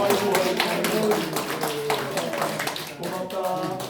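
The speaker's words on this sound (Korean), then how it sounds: "박수 한번 딱." Clapping from a church congregation during a Sunday worship service, a brief burst of many hands at close range, dense at first and thinning toward the end.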